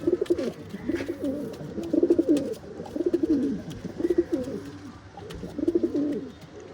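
Pigeons kept for sale in Bangalore coo nearby in repeated soft, throaty bursts of rolling calls, with short pauses between phrases and no talking.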